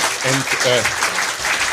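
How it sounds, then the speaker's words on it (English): Lecture-hall audience applause, a dense steady wash of clapping from many hands that carries on throughout while a voice speaks briefly over it. "I'm trying to cut short applause for her, not her."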